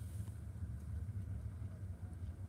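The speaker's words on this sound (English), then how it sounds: "I can hear the engine running" A boat engine runs somewhere out in a bay at night, a faint, steady low drone that stays distant and continuous with no other sounds over it.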